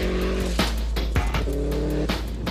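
Subaru Impreza WRX STI driven hard through a corner, its engine droning loud and steady with sharp bursts and shifts, continuous near roar without speech.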